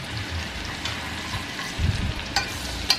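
Garlic sizzles gently in a pan while a carbonara is being cooked, a soft steady crackle with a few louder spatters and a low stirring rumble, fairly quiet and with no voices.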